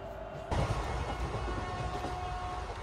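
The 22321 Up Hul Express from Howrah to Suri rumbles along at good speed, heard from inside the carriage as a steady broadband roar with faint track noise that swells in after a quieter opening moment.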